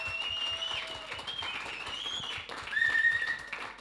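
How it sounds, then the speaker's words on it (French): An audience applauds during a live show, producing a soft, continuous wash of clapping with faint tonal sounds drifting over it. "On applaudit Fred."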